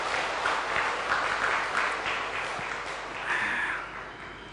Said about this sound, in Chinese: 我们给自己热烈的掌声吧